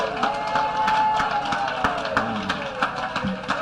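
A church crowd cheers and acclaims the Lord, a lively mix of raised voices and scattered claps in a reverberant hall, with a sustained sung or shouted tone running under the noise.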